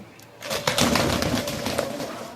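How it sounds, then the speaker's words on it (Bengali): Giribaj pigeons feeding on a background of steady rustling and shuffling, with a soft low coo running under the noise. "কি সুন্দর কবুতরগুলো খাচ্ছে দেখুন"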